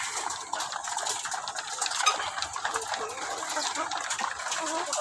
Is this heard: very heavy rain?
no